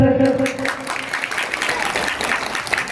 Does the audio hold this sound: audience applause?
yes